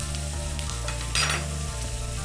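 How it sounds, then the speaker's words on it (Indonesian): Ginger frying in hot oil while it is stirred for a Hong Kong-style steamed fish: a steady, close sizzle runs throughout, with a brief louder burst of spatter as the pan is stirred. "Kemudian aduk kembali jahe yang sedang digoreng sehingga dapat menghasilkan minyak beraroma jahe secara merata."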